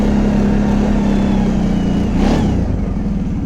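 A 2005 Arctic Cat V2 650 4x4 ATV fitted with TJD Kimpex tracks runs through heavy, wet snow, its engine holding a steady hum before a short rise in revs, close and continuous.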